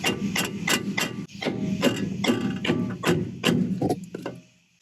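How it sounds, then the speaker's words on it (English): A hammer taps through a piece of wood onto a VW Mk1/Mk2 drive shaft, giving about ten sharp, evenly spaced knocks close up, then a short pause and a couple of lighter taps. "Let's tap it up a little bit. A piece of wood is always a good way to go."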